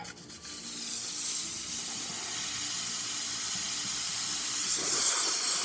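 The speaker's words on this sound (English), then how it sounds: "Now let's test the steamer." A Quickmill Vetrano espresso machine's steam wand hisses steadily and loudly for several seconds, a continuous close-up jet of steam with no talking.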